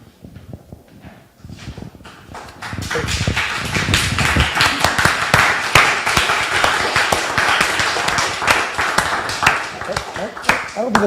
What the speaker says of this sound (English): That'll be the first round of applause.